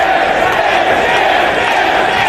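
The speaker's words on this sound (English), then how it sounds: "The crowd's calling for him to dance." A wrestling arena crowd at a Ring of Honor event chants in unison for a wrestler to dance, a loud, dense, continuous roar of many voices filling the hall.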